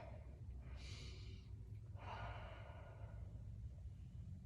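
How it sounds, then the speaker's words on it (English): A sleeping puppy breathes noisily in the background, making two soft, drawn-out snoring breaths that stay faint and distant in a quiet room. "my puppy is snoring in the background"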